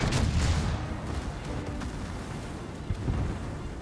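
Secondary guns on the battleship Atlantico fire in World of Warships, a string of deep, rumbling booms rolling over one another at close range.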